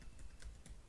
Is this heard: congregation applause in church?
no